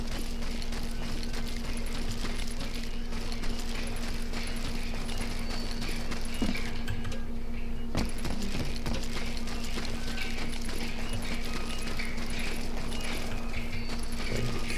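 Horses' hooves clip-clopping steadily in the western video game Call of Juarez, a close, continuous trotting rhythm over a low ambient hum, with no talk.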